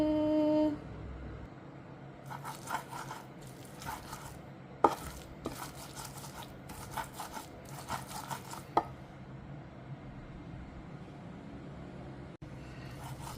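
Spices and chilies for sweet chicken curry being crushed by hand without a blender, a series of rough scraping, crunching bursts in uneven rhythm with short pauses between, close and moderately quiet, a few sharp knocks among them.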